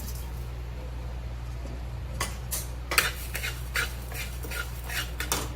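Whole coriander seeds being roasted in a pan, heard as a run of light scraping and rattling stirs from about the middle onward, over a steady low hum, with no talking.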